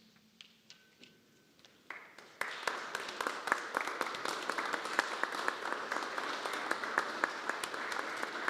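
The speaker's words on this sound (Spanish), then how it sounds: "El reconocimiento de nuestro aplauso para todos los maestros galardonados." An audience at a Teachers' Day celebration applauds award-winning teachers, starting with a few scattered claps and then swelling into steady, dense clapping from a crowd that holds at a moderate level to the end.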